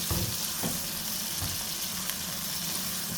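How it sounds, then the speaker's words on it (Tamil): Green chilies sautéing in a pan for a South Indian fish curry, a steady close sizzle and crackle of frying oil that runs unbroken throughout with no talking. "10 பச்சை மிளகாய் போட்டு நல்லா கொஞ்சம் வதங்க விடணும்"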